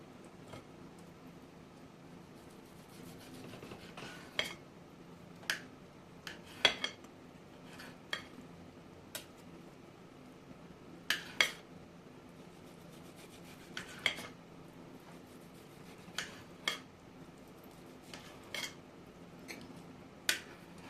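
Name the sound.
knife cutting grilled steak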